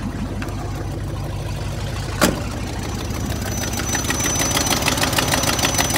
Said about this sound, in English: Got the old exhaust manifold leak.